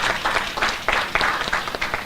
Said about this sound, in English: Ladies and gentlemen, a round of applause for everyone.